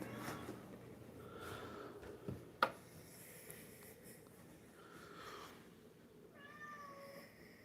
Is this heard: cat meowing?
yes